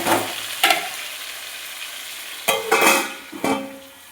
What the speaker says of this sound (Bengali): পুরো লাল লাল করে সবজি আলুটা ভালো করে ভেজে আনবো।